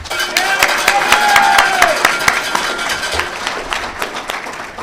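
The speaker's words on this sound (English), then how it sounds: "Ladies and gentlemen, please applaud our 2022 White House Communications Agency Hall of Fame inductee" Loud clapping from an audience at an award ceremony for a Hall of Fame inductee, sharp irregular claps with a faint tonal whine mid-way, tapering off toward the end.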